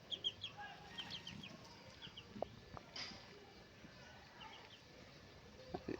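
Hens on a poultry farm offered for sale, faint scattered clucks and soft calls in the background with low murmuring voices and a few small knocks, distant and quiet throughout.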